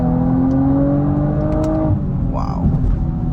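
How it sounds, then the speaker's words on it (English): A 2019 Audi RS5 Sportback launching hard from a standstill at a red light, its engine note climbing loud and close from inside the cabin, then dipping briefly as it shifts and pulls again, with a voice speaking over it. "Should give us a great opportunity to try an acceleration off the line"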